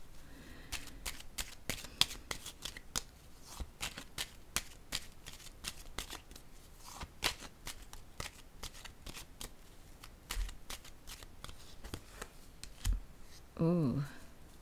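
Tarot cards are shuffled at close range, a long run of crisp riffling flicks and slaps in an uneven rhythm, with a brief voice near the end.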